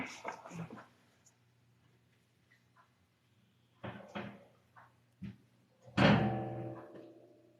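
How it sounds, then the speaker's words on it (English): A door is pushed and shut with several wooden knocks and rattles, ending in one louder thud with a short resonant ring, close by in a quiet room. "Let me see if I can shut this door now."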